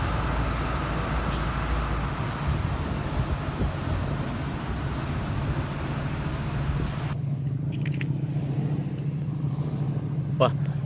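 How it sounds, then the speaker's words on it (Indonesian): A cargo truck drives past with a low, steady engine rumble and road noise at constant loudness, then the noise thins out near the end. "Ini ada truk pengangkut barang nih teman-teman."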